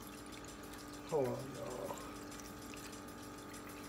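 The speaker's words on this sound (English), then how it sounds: "I'm gonna put some water in there." Water is poured from a bottle into a container, a short splashing fill lasting under a second, faint and close, with a person speaking briefly before it.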